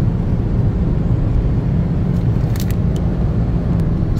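A car drives along a road near Attock toward Khanpur Dam, its steady low rumble of engine and tyre noise constant and close, with a few faint high ticks midway.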